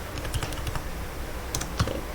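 Close, quick keystrokes tap out a short ls command on a computer keyboard, a few crisp clicks ending with a firmer press of the Enter key.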